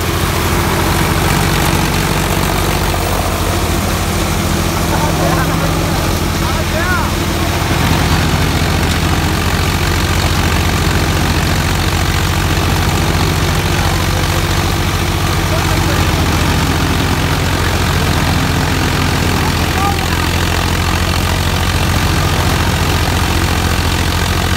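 A tractor engine running hard at about 1800 RPM while driving a cutter, producing a loud, steady, heavy drone with constant low rumble and unchanging mechanical hum throughout.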